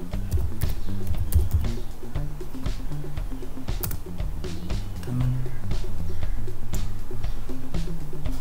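Rapid, irregular clicking of a computer keyboard continues throughout as someone types on a Windows 10 PC set to Tamil input, close and fairly loud.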